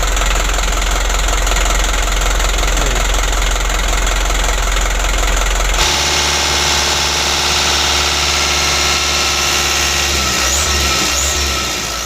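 Badly worn Hino Dutro 130 HD 2016 truck diesel engine running, a loud close rough knocking idle with heavy vibration that shifts to a harsher, rattling tone partway through, no talk.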